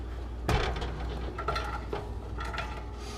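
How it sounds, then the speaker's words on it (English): Onions tipped into a big pot with melted butter on the bottom, one sharp clatter of the food and utensil hitting the pot, then a few lighter scrapes and knocks, faint low sizzle underneath, no talking. "And then we are going to add our onions into that."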